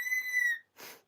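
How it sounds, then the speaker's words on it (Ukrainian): A single clear, steady whistle from a parrot, held for about half a second, followed by a short breathy hiss. "папуга свистунець"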